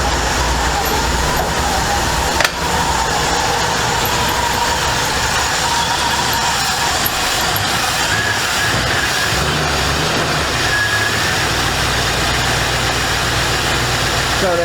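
An old abandoned Chevy Impala engine idles steadily with the AC compressor running, a constant low rumble with a broad hiss on top, close and loud, with a brief knock partway through.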